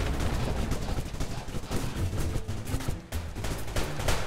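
Enemy gunfire in the video game Blamdown Udder Fury crackles in dense, rapid bursts that layer into a loud, chaotic fusillade with a brief dip near the end, with no speech over it.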